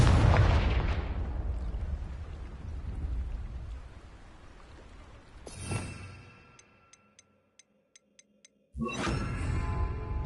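Confringo blasting spells go off in the video game Hogwarts Legacy, with a loud booming burst that fades into a rumbling tail, a few faint ticks, then another loud blast.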